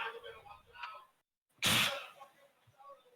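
A single sharp, loud sneeze bursts out after a pause, with quiet talk before and after it.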